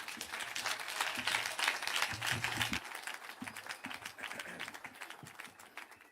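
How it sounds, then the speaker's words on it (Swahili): A crowd at a burial service in Kenya claps to welcome the president, a dense, fairly distant patter of applause that swells and then thins, with faint voices underneath. "Tungetaka kwa heshima tumpigie makofi, tumkaribishe rais wetu"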